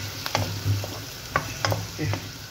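Onion and garlic fry in melting margarine in a pan, giving a steady close sizzle broken by several sharp scraping stirs and clinks of a utensil.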